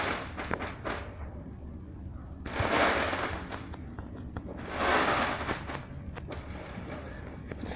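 Fireworks popping outside, heard faintly at a distance: scattered sharp cracks and two broader rumbling bursts over a quiet background.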